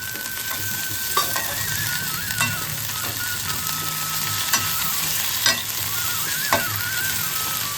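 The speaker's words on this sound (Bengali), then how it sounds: "এবার আমি হামানদিস্তায় থেতো করে রাখা আদা আর রসুনটা দিয়ে দিচ্ছি।" Crushed ginger and garlic sizzling in hot oil with golden fried onions for spicy duck egg curry, a steady close frying hiss broken by occasional stirring scrapes and clicks.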